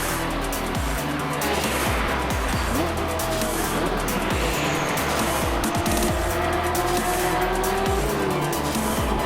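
Porsche GT3 Cup race cars lap Brands Hatch, engines droning loudly and continuously with rising and falling pitch as cars pass, tires squealing and skidding at moments, with trackside noise throughout.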